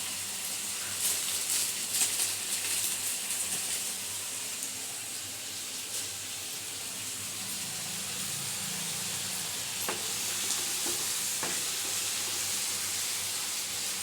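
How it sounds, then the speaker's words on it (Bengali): Chicken korma sizzles in hot oil as turmeric and chili powder are fried in, a soft, even hiss running throughout with a few faint clicks of stirring. "দিয়ে এবার কিছুটা সময় আমি একটু ভেজে নেব"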